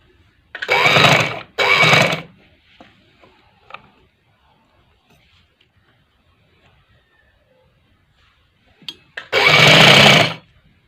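A sewing machine stitches the body of a frock in short bursts: two loud close runs near the start, a long quiet gap with faint handling clicks, then another steady whirring run near the end.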